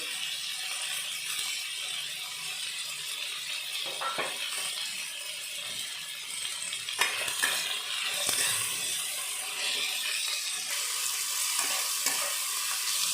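Cashews fry in a pan over a medium gas flame, giving a continuous close sizzle broken by scraping stirs and clinks of a utensil against the pan.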